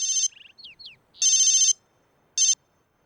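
A phone rings with a bright electronic ringtone in loud repeated bursts, separated by short chirping tones and pauses, close and clear with no talk.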